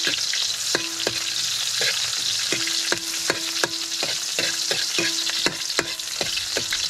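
Onion frying in a pan with a constant crackling sizzle, overlaid by a regular run of ringing metallic taps and scrapes from stirring, close up with no voices.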